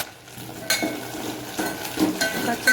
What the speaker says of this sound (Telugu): ఆయిల్ వేడైన తర్వాత పచ్చిమిర్చి వేసుకోవాలి